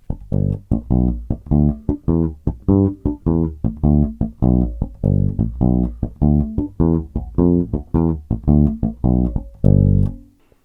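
Bass guitar plays a busy, rhythmic line of low plucked notes broken up by rapid muted percussive dead notes, close, solo and steady throughout.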